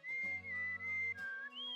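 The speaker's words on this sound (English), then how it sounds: "Oh, Proto Man's whistle again." A clear, steady whistled melody from the Suikoden role-playing game, sustained and loud over a low droning music bed, with a few short breaks between phrases.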